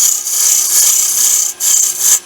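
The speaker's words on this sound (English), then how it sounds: "First thing I'll do with my skew is come in here and reduce the diameter of this. This is a peeling cut." A skew chisel makes a peeling cut on a spinning Christmas tree ornament blank on a wood lathe, a loud, steady hiss with a brief break near the end, heard alone.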